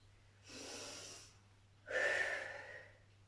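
Two slow, audible breaths close to the mic, an inhale then a stronger exhale, with a faint steady hum underneath.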